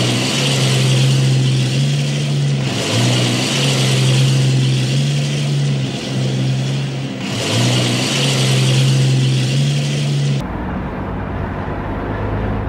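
A family car runs with a steady engine drone and mechanical whirring, loud and close, with a few brief dips as it shifts, before cutting to a quieter cabin hum.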